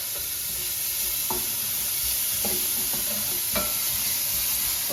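Onions sautéing in a pan for a sun-dried tomato chicken pasta: a continuous close sizzle with scattered soft taps and scrapes from stirring, with no voices.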